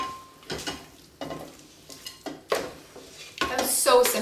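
Banana bread batter is scooped into a greased loaf pan in several separate spoonfuls, each a soft wet thud with spoon scraping against the pan edge and bowl, close by, with quiet gaps between scoops and a clatter near the end.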